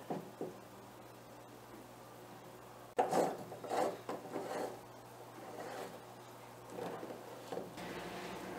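A tool cuts a hole through a plastic aquaponics fish tank for a bulkhead adapter, giving faint, uneven rasping and grinding bursts over a low steady hum.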